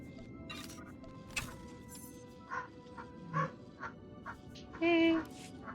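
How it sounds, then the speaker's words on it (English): A puppy yaps in short, separate bursts over steady background game noise. The barks are moderately close and irregularly spaced, with the loudest one near the end. "my puppy has decided that it is time to bark"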